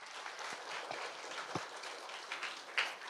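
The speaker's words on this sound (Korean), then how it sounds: "박수 부탁드립니다." Audience applause in a conference hall at a political rally, steady dense clapping with a few sharper claps standing out near the end.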